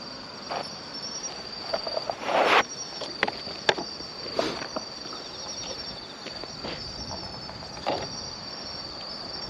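An Emma field cricket chirps in a steady, faint, continuous trill in roadside grass, with nearby rustling and footsteps breaking in now and then.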